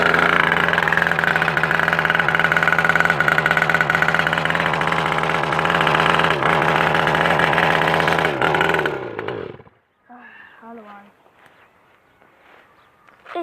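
A motorbike engine runs loud and close with a steady rough drone for about nine seconds, then cuts out abruptly, leaving near silence with faint voices and small sounds.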